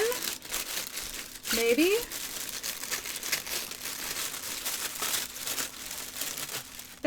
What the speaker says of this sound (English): We're going to go ahead and rip this open.